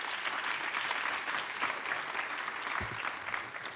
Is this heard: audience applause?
yes